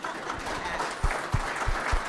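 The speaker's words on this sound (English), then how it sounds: "Everyone clap for that." Applause from a business crowd at a civic gathering, many hands clapping in a moderate patter broken by a few louder low thumps.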